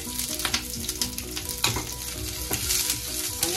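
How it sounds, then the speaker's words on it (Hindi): Onions sauté in about a tablespoon of oil in a pan, a close, lively sizzle with crackles and brief scraping stirs, no talk heard. "अनियन को हल्का सा ऐसे सॉटे करें 10 से 15 सेकेंड"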